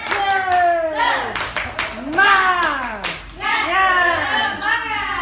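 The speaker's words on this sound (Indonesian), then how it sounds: "Tepuk semangat." Teachers in a school workshop clap together in a rhythmic group pattern, sharp bursts of hand claps in sets, with voices chanting along between the beats.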